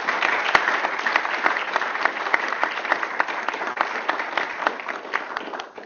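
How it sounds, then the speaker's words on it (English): Audience applause at a medical school debate event, a sustained patter of many hands clapping at steady strength with crisp individual claps poking through, tapering off near the end. "So let's give them a round of applause."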